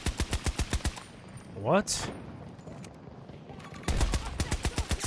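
Rapid automatic gunfire from the BSVM rifle in Battlefield 2042, a close burst of evenly spaced loud shots, a pause filled with game noise and a short whoosh, then another fast burst, with a brief voice in between.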